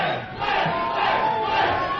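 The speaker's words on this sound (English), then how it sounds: "the crowd chanting for Flav" A crowd at a Halloween radio show chants and roars continuously for Flavor Flav, a loud, dense wall of voices with no break.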